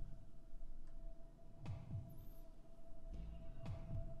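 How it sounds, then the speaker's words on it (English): In the Fears to Fathom horror game, a muffled heartbeat thumps in two slow double-beat pairs beneath a steady low electrical hum. "Heartbeat."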